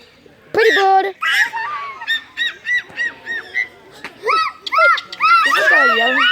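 Cockatoo parrots yelling loudly at close range, a run of harsh, honking squawks in rapid bursts, mixed with nearby people talking.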